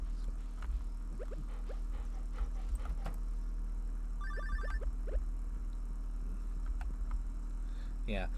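A phone rings with a few short electronic tone bursts during a relaxed Stardew Valley farm game session, heard faintly beneath a steady low hum and quiet background talk.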